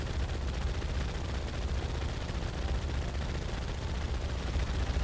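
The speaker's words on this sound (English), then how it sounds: "Right click to fire a barrage of normal bullets." Rapid, continuous bullet-barrage fire from a weapon in the Terraria Calamity video game, a dense, loud stream of gunshots with no gaps for the whole stretch.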